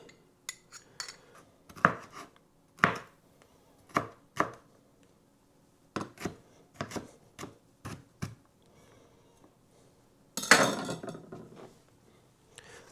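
A knife cuts jarred nacho toppings on a board in a kitchen, giving a string of sharp, close chopping taps in uneven bursts, ending in a louder clattering scrape.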